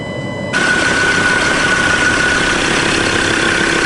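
A Mazda BT50 engine starts and settles into a steady idle after a fuel filter change, running close and loud with a constant drone and a thin whine on top.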